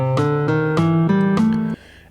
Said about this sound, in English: It's really a blues scale